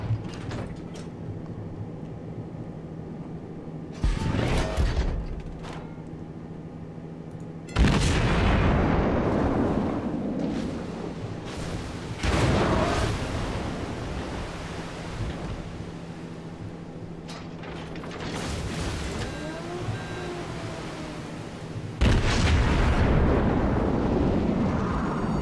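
Heavy naval shells landing and exploding around a warship in World of Warships, a series of deep booming blasts several seconds apart, each loud burst followed by a long rumbling decay.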